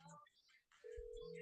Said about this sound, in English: Oh, I got my own ringtone.